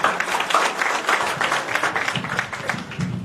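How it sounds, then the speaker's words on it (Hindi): An audience at a Karni Sena workers' gathering in Jharkhand claps in welcome, a steady spatter of moderately faint applause lasting a few seconds. "एक जोरदार तालियों से इनका स्वागत होनी चाहिए"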